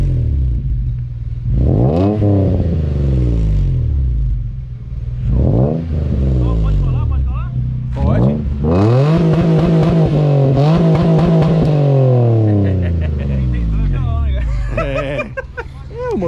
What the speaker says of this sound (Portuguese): esse carro ele tem um som muito bonito